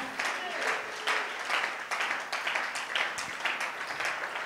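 Congregation applauding during a church service, a steady wash of many hands clapping with some shouting voices mixed in, moderately distant and continuous throughout.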